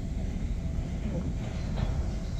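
A Tyne and Wear Metro train rumbles at an empty station, a low steady mechanical rumble with faint squeaks, moderately loud and close.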